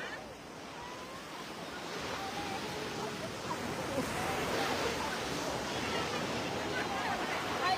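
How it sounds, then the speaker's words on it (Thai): Sea waves at Hua Hin beach rush and roll continuously, a broad, steady surf noise building slightly over several seconds with some wind buffeting the microphone. "ทะเลหัวหินค่ะ"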